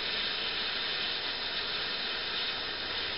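A torch heats a brake line fitting during a brake line replacement, giving a steady, even hiss that runs unbroken throughout with no talking.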